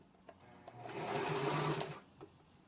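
A sewing machine back-stitches a fabric pouch in one short run of about a second, close and steady, with faint clicks before and after as the work is handled.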